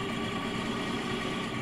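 A van's engine idles in the video game My Summer Car, a steady, continuous low rumble with even vibration, moderately loud and alone without speech.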